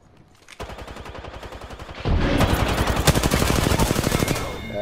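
Automatic weapon fire in a shooter video game, rapid evenly spaced bursts that start close and loud, then thicken into heavier overlapping fire before tapering off.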